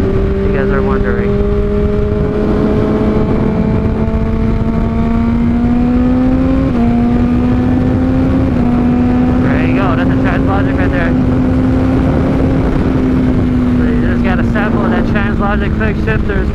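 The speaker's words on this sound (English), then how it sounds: "That's me downshifting." A Honda CBR600RR motorcycle with a Toce exhaust and a Translogic quickshifter, without auto-blip, drones loudly and close, its engine note stepping in pitch several times as it downshifts through gears.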